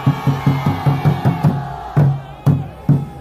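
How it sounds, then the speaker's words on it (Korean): A crowd at a Korean political rally shouts in loud, rhythmic bursts, the voiced chant pulses coming evenly at first and then spacing out into single shouts. "함성 10초간 발사!"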